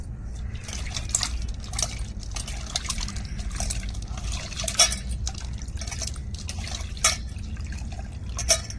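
Tamarind and coconut milk mixture poured gently into a pot, a soft continuous trickle with small splashy drips, close and fairly quiet over a low background hum.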